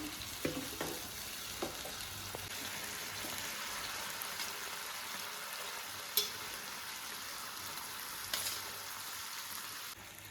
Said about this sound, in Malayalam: കുറച്ച് കുറച്ചായിട്ട് ഇങ്ങനെ ഇളക്കി യോജിപ്പിച്ച് നന്നായിട്ട് യോജിപ്പിച്ചെടുക്കണം